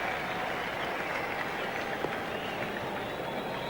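Steady applause from a crowd of 25,000 to 30,000 at a cricket match at the Sydney Cricket Ground, a broad continuous patter of clapping heard from a distance, even in level throughout.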